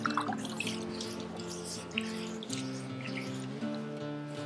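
Rinseless wash squeezed from a wet sponge drips and trickles onto a convertible's soft top, a steady close watery patter with a few brief splashes.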